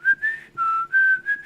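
A whistled tune, the melody Mickey Mouse whistles in Steamboat Willie, heard as several clear, steady phrases with short gaps between them and no one talking.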